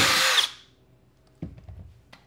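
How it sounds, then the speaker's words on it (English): A power drill bores a hole in a plastic SodaStream Terra adapter in one loud, whining burst of about half a second that cuts off sharply, followed by a few clunks and taps as the part is handled. "I'm just gonna take a drill and I'm gonna drill a hole."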